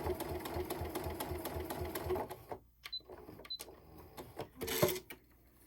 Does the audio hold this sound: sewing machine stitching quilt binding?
yes